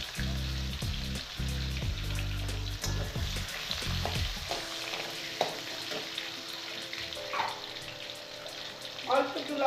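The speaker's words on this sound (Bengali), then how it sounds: "এবার আলুগুলো একটু ভেজে নেবো, আমি ভেজে একটু তুলে নেবো হালকা করে।" Potato pieces sizzle loudly in a pan while being stirred, then the frying drops to a quieter crackle with occasional clinks and scrapes.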